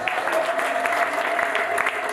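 A church congregation claps together during a sermon, a dense, steady patter of many hands close in a reverberant hall, continuing without a break.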